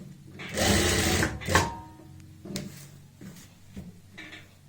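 A sewing machine runs in short bursts, stitching evenly spaced seams on fabric for a border strip, with a long first run followed by quicker stops and starts, close and clear with no talking.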